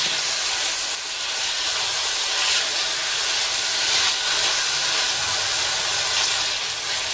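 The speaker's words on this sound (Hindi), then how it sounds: "थोड़ा सा भूनना है हमें ताकि मसाले जो है वो कच्चापन खत्म हो जाए इनका।" Meat fried with red chilli and cumin for balti gosht gives a loud, steady sizzling hiss that fills the whole stretch without a break, with no talking over it.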